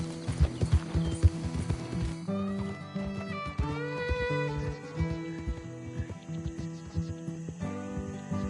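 A horse clip-clops and gallops in the video game Red Dead Redemption 2, with rhythmic hoofbeats up close under a sustained musical score.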